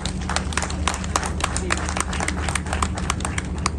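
Steady applause from a crowd at the grand opening of a medical centre in Lagos, dense rapid clapping that carries on throughout with a few voices beneath it.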